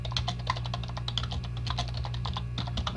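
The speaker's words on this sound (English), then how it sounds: "You can type in whatever you want to." Rapid, steady clicking of a computer keyboard as a short blog comment is typed, close and continuous for a few seconds with no talking.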